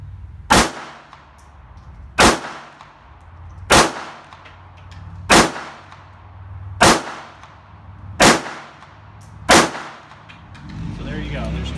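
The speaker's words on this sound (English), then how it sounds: "one more magazine out of the P238" Seven sharp pistol shots from a Sig Sauer P238 ring out at a shooting range, evenly spaced about one and a half seconds apart, each a loud crack with a short echoing tail.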